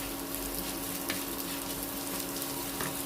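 Onions sizzle and fry in a pan over medium heat, salted and occasionally stirred, making a steady crackling hiss with a few brief scrapes. The sound is soft and close, with no talking over it.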